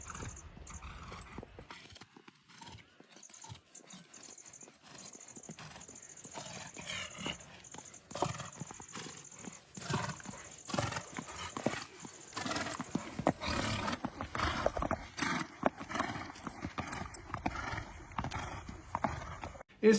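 A decorated dancing horse steps about, its hooves clip-clopping in an irregular, fairly close series of sharp knocks over a thin steady high tone, with occasional snorts or rumbles.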